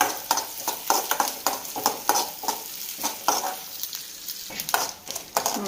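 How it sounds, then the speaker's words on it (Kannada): Black pepper and dried red chillies are stirred and fried in a pan for banana flower tambuli, sounding as rhythmic scraping and rattling strokes over a light sizzle, close and fairly loud, with no speech. "ಕಾಳುಮೆಣಸು 1/2 ಸ್ಪೂನು, ಮತ್ತು ಒಣಮೆಣಸಿನ್ಕಾಯಿ ಇಷ್ಟು ನೀಟಾಗಿ ಚೆನ್ನಾಗಿ ಫ್ರೈ ಮಾಡ್ಕೊಳ್ಳೋಣ."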